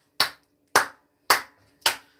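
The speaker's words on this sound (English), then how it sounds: "A round of applause" One person claps four times in a slow, even rhythm, close and crisp, with silence between claps, during a live unboxing of a homebrewing brewery setup.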